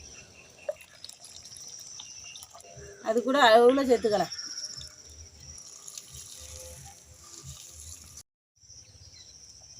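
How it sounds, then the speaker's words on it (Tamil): Water pours briefly into a pot of cooked lentils, a short splashing burst, while someone talks over a steady background hiss. "பருப்பு நல்லா வெந்துட்டு தண்ணி இன்னும் கொஞ்சம் ஊற்றிக்கலாம்"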